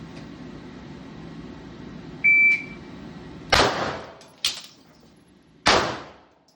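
Pistol shooting drill at a range with a low magazine reload: a timer beep, then three sharp, loud gunshots spaced roughly a second apart, each ringing out briefly in a quiet setting.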